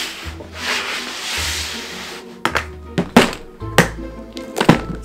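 A Dremel rotary tool shapes foam for costume bones, giving a close, whirring grind in short bursts, broken by a few sharp knocks and scraping rubs as the foam is handled.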